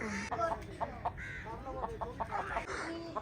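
Chickens, hens and roosters, at a village mud house, clucking in repeated short calls, fairly faint under steady background noise and some voices.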